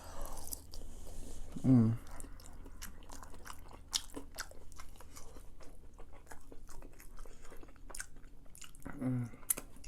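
Close, wet chewing and biting of very spicy food, with a loud bite near the start and steady mastication throughout, plus a brief murmur of appreciation.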